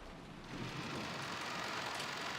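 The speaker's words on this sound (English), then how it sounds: "The downpour is quite terrific." Heavy rain pours down steadily after a door is opened in the visual novel Umineko, a dense hiss that swells to full strength after a brief quieter start and holds there.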